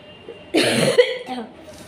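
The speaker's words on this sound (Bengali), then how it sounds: "তাই এই যে আমার কাশি শুরু হলো, কবে ঠিক হবে জানি না।" An adult's single loud, harsh cough bursts out close by in a quiet indoor setting, trailing into a faint throaty rasp and breath.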